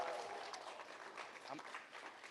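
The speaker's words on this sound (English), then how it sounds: "Clap it up for me." Sustained applause and cheering from an in-person audience at a school district board meeting, a dense, steady wash of clapping over the whole stretch with a few scattered whoops.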